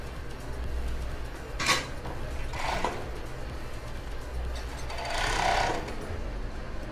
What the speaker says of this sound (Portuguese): Vou passar a costura